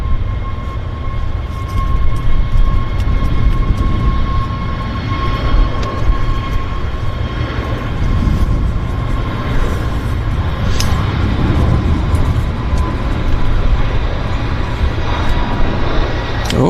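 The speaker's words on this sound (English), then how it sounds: "we've got a Flare 737. He's just been cleared for departure." A Flair Boeing 737 jet on its departure takeoff roll, a steady broad engine roar with a high whine that stays loud and constant throughout, heard from a distance across the airfield.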